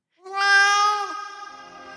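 A single cat meows loudly and close up, a long drawn-out call that swells and then trails off, heard on its own with no talking.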